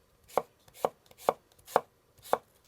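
A knife cuts a crisp apple into chunks on a cutting board for an apple and pear salad, giving five sharp, evenly spaced chops, close and clear, against quiet surroundings.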